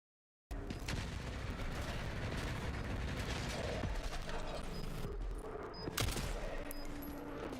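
Enemy gunfire in the Resident Evil Requiem video game, a dense continuous burst of shots and impacts that runs loud and steady for about seven seconds after a moment of silence.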